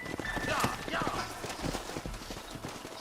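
Hooves clop at a walk in Red Dead Redemption as horses slow near a canyon fort, a soft, fairly quiet run of hoofbeats with low rumbling in the background.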